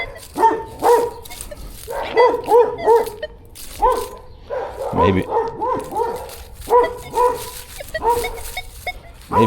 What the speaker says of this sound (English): Looks like I'm going to get serenaded by a dog for a little while.